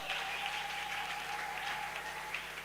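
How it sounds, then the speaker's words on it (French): A church congregation applauds and cheers for the Lord during a Friday service, with steady, fairly faint clapping throughout. "Est-ce qu'on peut acclamer un peu pour Seigneur?"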